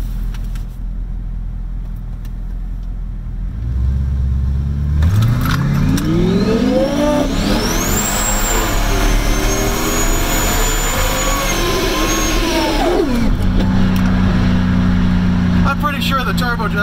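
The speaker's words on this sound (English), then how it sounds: "this turbo doesn't sound too healthy." A car on a track revs hard through a rising, whining turbo that sounds unhealthy, the pitch sweeping up and holding before dropping off, loud and close, with voices talking around it.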